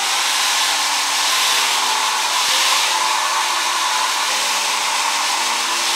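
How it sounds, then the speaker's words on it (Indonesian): A hair dryer blows steadily and loudly while styling short bob-cut hair, a constant close whooshing roar with no talking. "Kalau udah kering, aku akan lanjut pakai hair dryer lagi."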